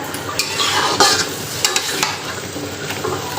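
Dried fish curry being stir-fried in spices sizzles loudly and continuously in the pan, with repeated scraping and clacking strokes of the spatula close by.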